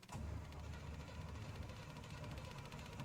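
A 1985 GMC square body service truck engine cranks steadily in a low, continuous churn without catching, loud and close, with no voices over it.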